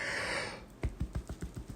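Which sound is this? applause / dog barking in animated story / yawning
yawning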